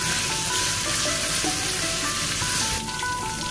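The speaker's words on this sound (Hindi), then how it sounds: "इसको हम थोड़ा सा फ्राई करेंगे जब तक इसकी खुशबू ना आने लगे।" Garlic ginger paste fries in hot cooking oil, giving a loud, continuous close sizzle with faint stirring scrapes underneath.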